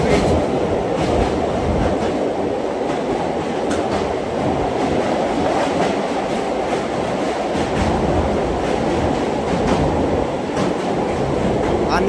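A MEMU passenger train rumbles steadily across the Nasipur rail bridge over the Bhagirathi Ganges, loud and close, with continuous wheel clatter and rhythmic clicks throughout and no talk.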